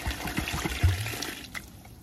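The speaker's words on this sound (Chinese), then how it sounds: "烧红色加入开水" Boiling water is poured into a pot of caramelized sugar, giving a short splashing gush and sizzling rush at close range that fades after about a second.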